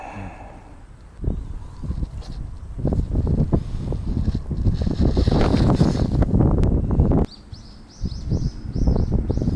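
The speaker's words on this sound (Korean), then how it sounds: "왜 또 바람이 또 맞바람이 불어" Headwind gusts batter the microphone outdoors at a winter freshwater fishing spot, swelling from faint to loud rumbling roars that drop away briefly before returning, with faint bird chirps at the end.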